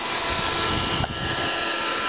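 Vacuum running steadily while a Cal Spa hot tub is bagged up during a move, a continuous loud whooshing hum with no talk.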